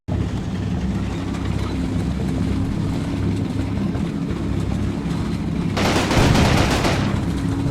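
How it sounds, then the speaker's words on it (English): Tank hull machine gun firing in the Italian Celleno campaign of the wargame Combat Mission: Rome to Victory, a short loud burst near the end over a steady low rumble of engine and battle noise. "They're using the hull MG, okay?"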